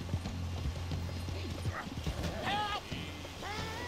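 Horse hooves clip-clopping in the Red Dead Redemption 2 video game, a steady mid-distance trotting rhythm with a couple of short whinny-like calls over game ambience.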